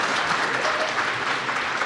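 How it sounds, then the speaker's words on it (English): Live audience at a Summer Games Done Quick 2017 speedrun event claps in a brief, dense burst of steady applause, close and even. "Can we get like some applause for that"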